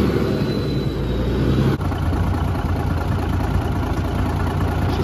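An old show truck's engine idling steadily, a close, loud low rumble with a brief dip partway through, no talk.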